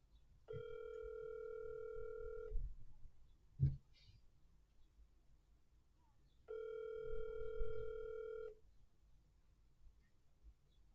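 An outgoing phone call rings twice, each a steady two-second electronic tone separated by a pause, with a faint click in between before the line goes to voicemail.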